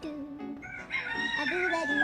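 A rooster crows in a rural Ilocano setting, a single drawn-out call rising and holding loud and fairly close over faint background noise.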